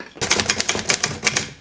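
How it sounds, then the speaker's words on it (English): Keys struck on an old typewriter, a quick burst of about eight crisp mechanical clacks in an uneven rhythm, close and clear with no talk. "On my never-ending list of projects is restoring this typewriter."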